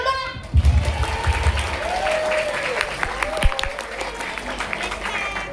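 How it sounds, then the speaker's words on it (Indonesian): A student audience at a campus outreach event bursts into applause after a brief voice, a dense wash of clapping with crowd murmur continuing steadily under faint talk. "tepuk tangan dulu dong"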